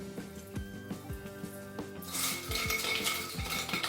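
Rice flour chips being tossed with salt and pepper in a bowl, with soft scraping, clinking and rustling, then a denser burst of tossing and rattling partway through.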